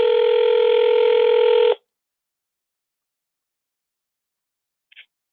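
A steady telephone tone sounds for under two seconds on an automated dialer line, then cuts to silence, broken later by a faint brief blip as the call transfers.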